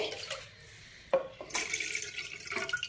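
One and a half cups of water splash and trickle into a metal pot for tea in short bursts, close by, with a sharp clink partway through.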